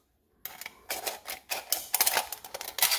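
Scissors cut through a thin aluminum can in a quick run of sharp, crinkly snips and clicks, close and alone.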